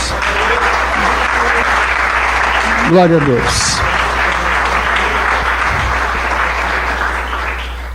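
Church congregation applauding steadily at close range, a dense even clapping that runs the full length, with a voice briefly speaking over it partway through.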